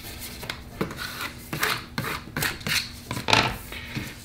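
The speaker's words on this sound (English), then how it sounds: "I take my design and apply it carefully and lay it down gradually with a squeegee." A squeegee rubbed in repeated short strokes over vinyl transfer tape laid on a design, giving a close, dry scraping and rubbing sound in uneven bursts, with no talking.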